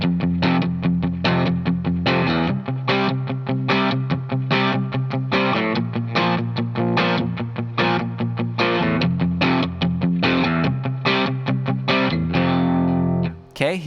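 Distorted electric guitar strums the eight-bar verse progression of a song, chords changing every two bars and then every bar, played loud and steady with chorus-type effects and no voice.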